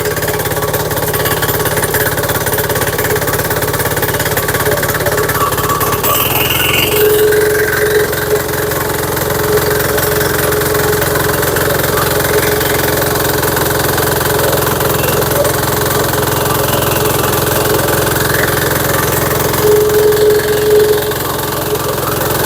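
A diesel mini power tiller engine runs steadily at idle. The loud, even mechanical rumble holds for the whole stretch, with no one talking.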